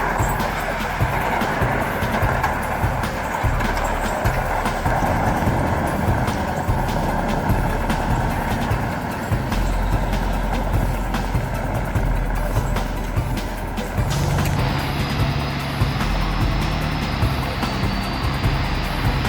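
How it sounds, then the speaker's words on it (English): A Mercedes-Benz logging truck loaded with timber in Malaysia's rain-soaked wilderness, its engine roaring as a loud, steady heavy rumble that shifts to a deeper, harder tone partway through, alone without talk. "Loaded with timber, the truck's engine roars to life"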